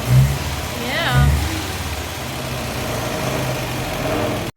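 A 1953 Austin A40 Somerset engine idles after a tune-up with an even, low, close rumble and a slight rise in revs early on, while people talk briefly over it.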